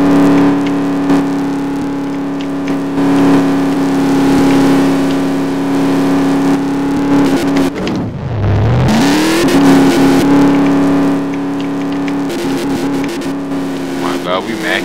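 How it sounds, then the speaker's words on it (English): Car engine droning steadily with a brief dip and swoop during a drift in a Roblox driving game, loud throughout with a voice talking over it. "Hit one good drift."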